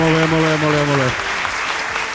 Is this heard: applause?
yes